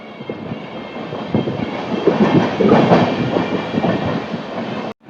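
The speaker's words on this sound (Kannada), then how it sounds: "ಈಗ ಎಲ್ಲಿ ಹೋದ್ರು ಎಲೆಕ್ಟ್ರಿಕಲ್ ಟ್ರೈನ್ಗಳು ಇರೋದು ನೋಡಿ" An electric express train rumbles along the rails with rhythmic clickety-clack, loud and close, growing stronger midway before cutting off abruptly.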